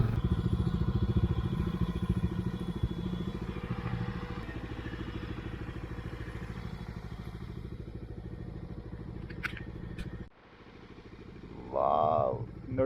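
A motorcycle rides through monsoon fog near a waterfall, its engine a steady loud drone with clattering texture that drops away abruptly near the end before rising again.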